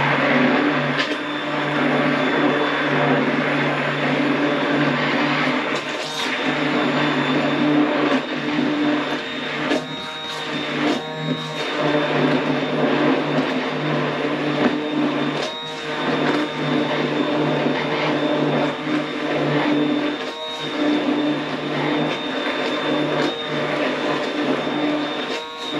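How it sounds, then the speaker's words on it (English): A small electric hand mixer whirs continuously through a zucchini filling, a steady motor drone with scattered knocks and scrapes against the bowl, sounding close and moderately loud. "I would like to highly recommend these little mixers here"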